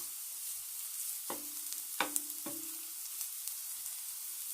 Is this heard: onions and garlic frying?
yes